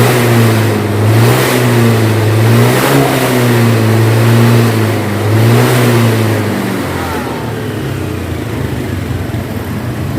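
A Honda Beat scooter engine, just repaired after stalling when throttled, revs up and down in several loud, close surges before settling toward a steadier idle.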